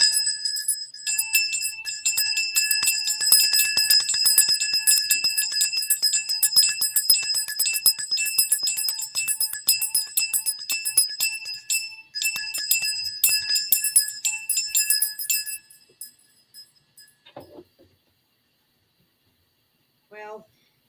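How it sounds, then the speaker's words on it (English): Hand bells rung steadily for about fifteen seconds, a bright sustained jangling chime that keeps going, then cuts off and leaves a few faint knocks and near silence. "So we better ring our bells, I guess."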